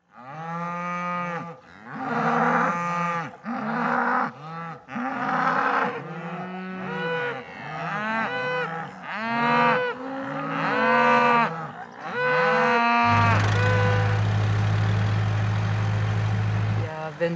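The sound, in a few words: cows mooing on a farm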